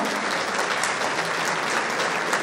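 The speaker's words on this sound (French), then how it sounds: "On va applaudir Jules Gatuin, Iban Orinena," Steady, dense applause from a crowd at an awards ceremony for volunteers and athletes in Soustons fills the whole stretch, with hands clapping evenly and continuously at close range.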